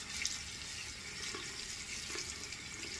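Tap water runs steadily into a sink while a safety razor is rinsed of thick shave soap lather, a continuous soft hiss and splash at low level with no talking.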